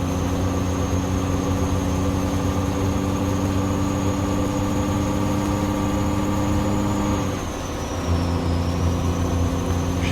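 Kenworth W900 truck in a driving game, its 465 hp Cummins Big Cam engine droning steadily and loud under acceleration, with a brief dip near the end before the low rumble resumes.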